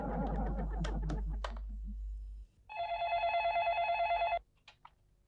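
A telephone rings with a steady electronic trill lasting under two seconds, clear and close, following some brief scattered sounds and low rumble, then a couple of faint short tones after it stops, no talk.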